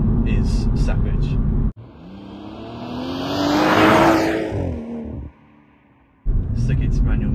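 A 2018 BMW M140i hot hatch accelerating hard in manual mode in third gear, its engine note rising and building in loudness, briefly cut off, with someone talking over the start and end.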